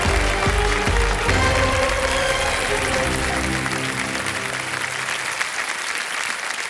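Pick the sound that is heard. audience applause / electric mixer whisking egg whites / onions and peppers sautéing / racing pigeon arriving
audience applause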